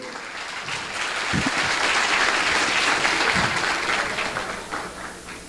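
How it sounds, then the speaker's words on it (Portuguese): An audience at a Brazilian panel session applauds the technical team, a dense, full round of many hands clapping that swells, holds steady for several seconds, then starts to fade, with no talking over it. "Palmas para a equipe técnica que me ajudou ali."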